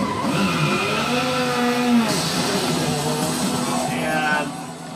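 Racing cars from the Gran Turismo driving game roar with rising and falling engine tones while tires squeal and skid, loud and close throughout before easing off at the end.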